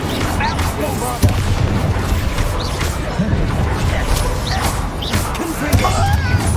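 Booming spell blasts from the Bombarda curse in Hogwarts Legacy thunder through a busy, dense game battle, with repeated heavy impacts layered over constant combat noise and voices.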